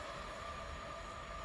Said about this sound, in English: Royal Mail train, which I finally managed to catch.